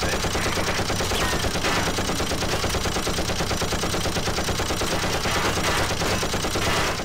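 Rapid turret gunfire in the shooter Time Shift, a loud, relentless stream of automatic shots hammering on without pause.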